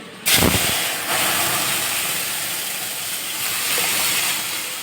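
Mung dal is poured into hot oil with a fried asafoetida tempering and bursts into a loud, sudden sizzle that settles into a steady hiss, close by.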